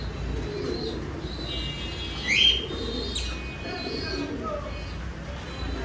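Fancy pigeons at a pigeon farm give soft, low cooing calls among other bird chirps, with a brief sharp squeak midway and a steady background hum.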